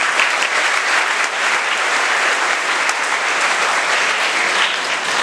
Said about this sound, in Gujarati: એમને તાળીઓ પાડીને આવકારું છું